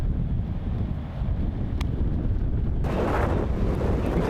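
Gusting wind buffets an outdoor disc golf course in Melbourne, a steady broadband rush that swells louder in the last second and a half, heard alone with no talk.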